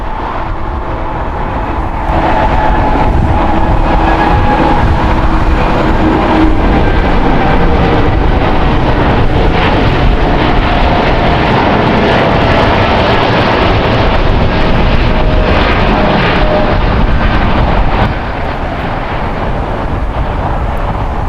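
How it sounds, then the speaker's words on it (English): A Boeing 787 Dreamliner takes off from LAX bound for Denver: a loud, continuous jet engine roar swells after a couple of seconds, holds strong, then eases slightly near the end. "Beautiful Dreamliner departure there."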